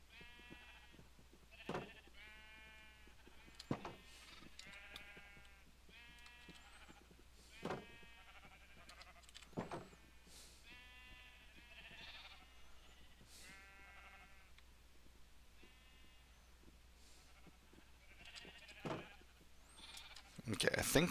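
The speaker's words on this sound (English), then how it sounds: "I think we already have a red sheep" Minecraft sheep bleat repeatedly in quick quavering calls, several in a row spaced through the stretch, with light clicks and game sounds between them.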